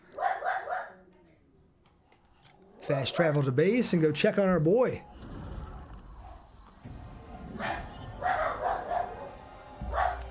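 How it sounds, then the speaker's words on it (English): A pet dog named Pepper barks in sharp, yipping bursts, several quick barks in a row somewhere nearby, interleaved with someone talking and faint game sounds. "Sorry if you guys can hear Pepper barking in the background."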